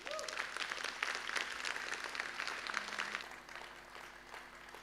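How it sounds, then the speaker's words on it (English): An audience applauds a moderator and panel at the close of a glaucoma innovation event in Australia, a sustained wash of clapping that holds for several seconds and then gradually thins and fades. "please a big round of applause"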